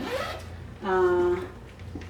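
An insulated lunch bag is zipped shut in one quick, close pull lasting about half a second, set between stretches of softer background sound.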